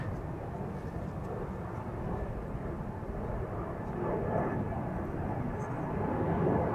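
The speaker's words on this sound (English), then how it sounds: "another EasyJet A320 going to Bristol" An EasyJet Airbus A320 departs toward Bristol, its steady, distant jet rumble holding at moderate level and building slightly toward the end.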